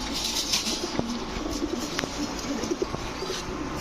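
Rajshahi Giribaz pigeons, male and female, cooing in a loft with soft repeated low coos, the occasional chirp and flutter, and steady background noise from the flock close by.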